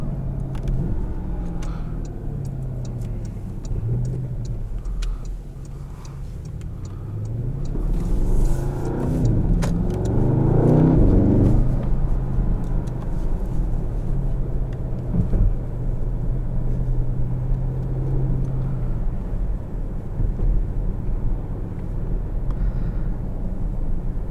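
2018 Porsche Panamera Turbo Executive car driving, a continuous engine and road rumble that swells into a louder surge of acceleration around the middle before settling back to a steady cruise.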